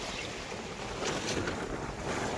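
A strong amihan wind buffets the microphone on a small fishing boat at sea, giving a steady, loud rushing roar with gusty swells and no talking.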